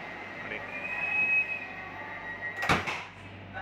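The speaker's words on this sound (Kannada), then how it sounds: "ಇವಾಗ ಡೋರ್ ಕ್ಲೋಸ್ ಆಗುತ್ತೆ." The door of a Vande Bharat train on the Ernakulam to Bengaluru route slides shut with a brief, sharp burst of noise, following a steady beeping warning tone over a low hum inside the coach.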